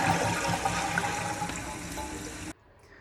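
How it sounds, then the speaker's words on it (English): A toilet flushes after its shut-off valve has been replaced, a loud rushing swirl of water close by that drains for a couple of seconds, then cuts off sharply into a quiet refill. "now let's test the flush"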